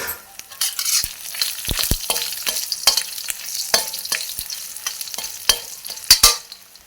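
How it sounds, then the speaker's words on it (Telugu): Dry ginger and dried red chillies fry in oil for a Telangana chennangi leaf chutney, with crackling sizzle and repeated sharp scrapes of a stirring spoon against the pan, close and steady with no voices. "సొంటి వేసుకొని వెంటనే ఎండుమిర్చి కూడా వేసుకోవాలి"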